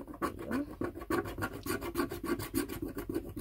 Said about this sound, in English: it's making so much noise. Well, not like so much, but I mean scratching.